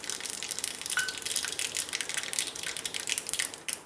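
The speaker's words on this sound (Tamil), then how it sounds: "பாருங்கள், கடுகு நல்லா பொரியட்டும்," Mustard seeds splutter in hot oil for radish sambar, a dense, steady crackle of tiny pops heard up close and without speech.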